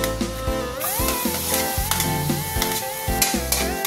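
Garlic sautéing in heating cooking oil in a pan, with steady sizzling and rhythmic stirring scrapes throughout, close and fairly loud with no voices.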